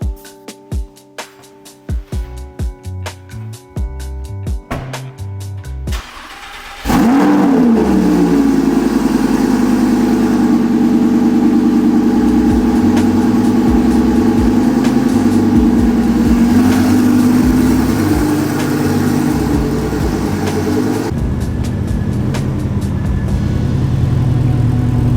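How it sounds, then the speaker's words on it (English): A V10 Lamborghini with a full titanium exhaust cranks with a few clicks on a cold start, then roars to life and settles into a loud, steady high idle that drops slightly near the end. "enjoy the first cold start for the boys. V10 Lambo with a full titanium exhaust pipe"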